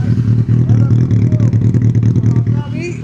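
A loud second-hand superbike engine runs close by with a steady, throbbing low rumble and slight revving, while a person talks over it.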